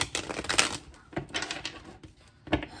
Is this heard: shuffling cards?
yes